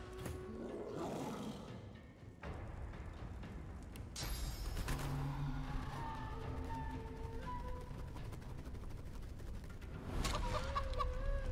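Chicken clucking and squawking from the video game Divinity: Original Sin 2, heard over dense game background noise and effects, with a burst of bird-like calls near the start and more fowl sounds later.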